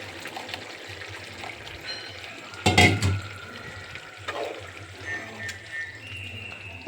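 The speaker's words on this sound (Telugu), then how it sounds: "ఇప్పుడు నేను లాస్ట్లో కొంచెం పాలు పోస్తున్నాను." Milk is poured into a curry cooking in a pot, making a brief splashing gush in the middle over the steady low hiss of the stove.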